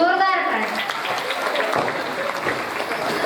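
A crowd at a Marathi devotional Bhagwat katha gathering breaks into loud, sustained applause, a dense wash of clapping that carries on steadily for a few seconds, with a voice trailing off at the start.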